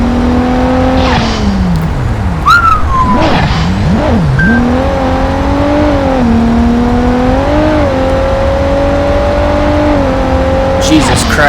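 Koenigsegg Agera RS hypercar in Gran Turismo accelerating hard down a quarter-mile straight, a loud continuous engine roar climbing through gear shifts with brief dips between, steady and close throughout.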